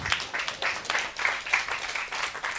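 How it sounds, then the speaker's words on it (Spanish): A church congregation at a Nazarene service in Tomaycuri, Peru, claps steadily through a Quechua sermon, producing a dense, even patter of many hands that stays moderately loud and close, with no voices standing out. "Dale un fuerte aplauso al Dios Todopoderoso."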